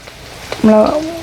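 A brief hiss and crackle of curry powder and spices hitting hot oil for tempering, with a short tonal squeal partway through.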